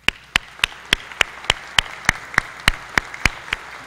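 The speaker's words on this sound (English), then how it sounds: "Let's give them a round of applause." At a VMI December graduation ceremony, sharp isolated claps ring out in a steady, evenly spaced rhythm, about a dozen distinct hits over a faint room background rather than a full crowd ovation.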